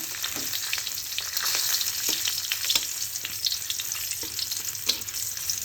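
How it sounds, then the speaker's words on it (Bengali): A few garlic cloves frying in oil as the base for a fish curry, a close continuous sizzle broken by sharp pops and scraping stirs, no one speaking. "মাছের ঝোল রান্না করার জন্য ভেজে নিব কয়েক কোয়া রসুন আর জিরে।"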